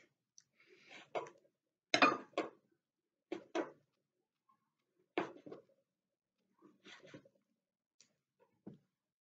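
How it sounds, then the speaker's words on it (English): Knife slicing sucuk sausage on a board for lavash pizza: a series of separate, short, soft cuts spaced about a second apart, close and quiet with silence between them. "now I will cut sucuk, sausage."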